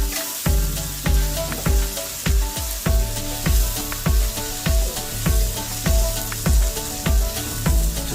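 Tomatoes fry in a pan over a low flame with a constant hissing sizzle, broken by regular rhythmic scrapes and clacks as a utensil stirs them roughly every half second, close and clear with no talk.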